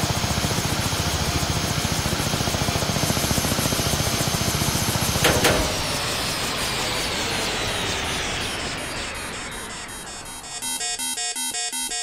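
Helicopter rotor and engine drone in a flight school video game, loud and continuous, with a sharp crash-like burst midway before the engine tone winds down and the sound turns glitchy at the end.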